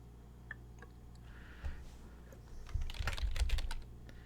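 Computer keyboard keys clatter in a soft run of light taps, thickening into a quicker burst near the end, close and fairly quiet with no voices.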